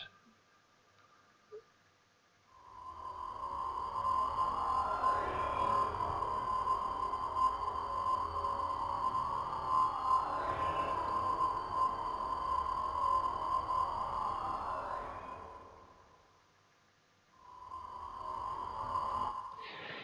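A sample loaded in Ableton Simpler with texture warp, playing a sustained synthetic tone that fades in slowly, swells and holds for about twelve seconds, fades out, then returns briefly at the end with no talking.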